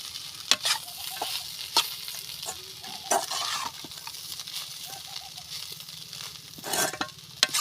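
Flattened rice poha being stirred in a hot pan for Vidarbha-style tarri pohe, with steady frying sizzle and repeated scraping strokes of a spoon against the pan, close and fairly loud throughout.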